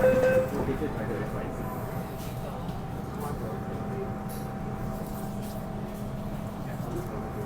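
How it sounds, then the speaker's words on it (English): A Hong Kong MTR Island Line M-Train rumbles low and steady as it pulls out of the station, with a faint whine and muffled background voices. "let's wait for train to depart here"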